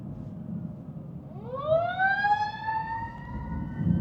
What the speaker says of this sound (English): There's a fire truck.